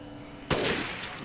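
Single sharp sniper rifle shot in Resident Evil Village, a loud close crack followed by a short decaying echo.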